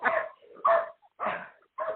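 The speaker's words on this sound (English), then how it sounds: "It's another dog." A dog barking loudly and close by, four sharp barks in an uneven rhythm with short silences between them and no talk over them.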